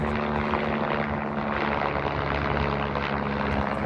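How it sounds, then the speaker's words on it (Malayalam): A helicopter flying near Jammu during a trip to Kashmir gives off a steady, loud engine and rotor drone with a constant tonal hum, unbroken for the few seconds. "ഹെലികോപ്റ്റർ"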